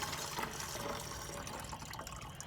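Liquid pours steadily into a pump sprayer tank for mixing Spectracide Weed Stop, a soft continuous trickle and splash that runs unbroken, fairly quiet and close, with no talking.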